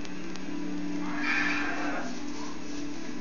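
A horse in the video game Oblivion lets out one brief whinny that rises and falls, set against a low, steady game hum with no talking.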